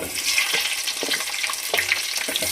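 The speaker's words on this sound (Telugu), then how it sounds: "పచ్చిమిర్చి ఇలా ఒక్కొక్కటిగా వేసుకుంటూ స్లోగా ఫ్రై చేసుకోవాలి" Onions and green chillies fry in hot oil with a loud, dense sizzle that carries on throughout, broken by repeated stirring scrapes.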